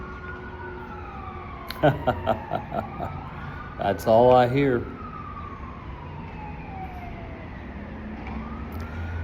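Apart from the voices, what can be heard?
emergency vehicle sirens in the city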